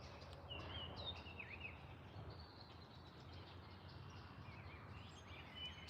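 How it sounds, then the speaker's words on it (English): Birds sing near water outdoors on a hike, giving faint, distant chirps and short whistled phrases over a soft, steady background rumble. "Guys, listen to the birds."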